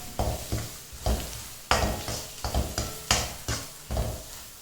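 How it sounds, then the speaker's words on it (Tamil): Cumin and pepper powder are sautéed in a pan for palak paneer, with repeated close scraping stirs at an even pace over a low sizzle. "இப்போது ஜீரகத்தூள், மிளகுத்தூள் எல்லாத்தையும் சேர்த்துட்டு நல்லா வதக்கி எடுத்துக்கலாம்"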